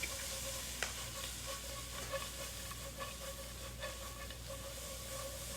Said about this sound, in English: And then just give that a good stir.